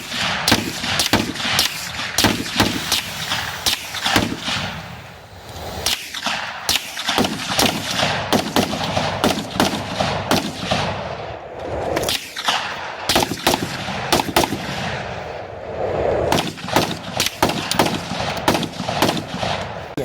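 Gunfire fills night fire training at a range, rapid overlapping bursts of loud close shots cracking in dense clusters with brief lulls between volleys.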